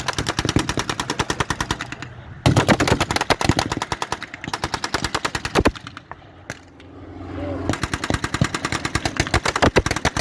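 Rapid machine-gun bursts from troops riding a Sherman tank during a WW2 battle re-enactment, loud and close, firing in long rattling strings with brief pauses and a low engine rumble between bursts.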